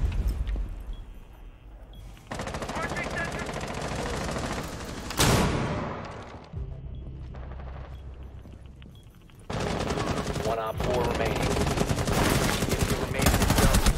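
Bursts of rapid automatic gunfire in Rainbow Six Siege, loud and dense, broken by short quieter gaps with low background noise.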